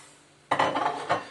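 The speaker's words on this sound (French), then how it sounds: "Alors toujours mélanger" Stirring a beer mash of hops and malt in a metal pot, a short burst of scraping and clinking from a spoon against the pot's sides, close and fairly quiet, no voices.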